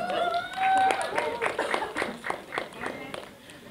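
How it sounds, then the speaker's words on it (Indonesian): Applause from a press conference audience for a film cast member, a scattered run of claps under an emcee's voice. "Tepuk tangan buat Mas Lukman Sardi"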